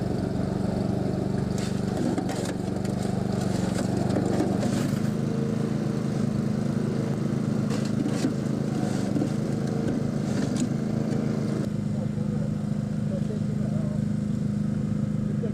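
A concrete kerbing machine extrudes and compacts a reinforced concrete curb at a commercial site in Willand, Devon. Its engine drones loudly and steadily throughout, with rhythmic mechanical chatter layered over the hum.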